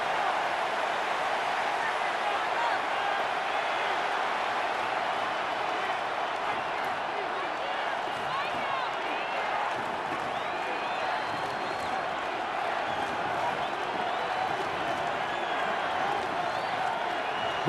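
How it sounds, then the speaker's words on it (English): A stadium crowd in a football video game simulation of the Los Angeles Chargers against the Denver Broncos keeps up a steady, dense roar throughout, with commentary spoken over it. "The crowd making their presence felt."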